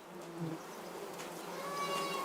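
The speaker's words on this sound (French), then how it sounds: "Les abeilles y pénètrent par de petits orifices." A soft, steady buzz of bees at a hive in a Himalayan valley, like humming around the hive, continuous and moderately faint throughout.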